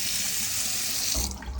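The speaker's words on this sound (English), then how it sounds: "Everything seems to be functioning on that faucet." A bathroom faucet runs in a master bathroom, a loud steady hiss of flowing water close by that shifts and changes near the end as the flow is altered.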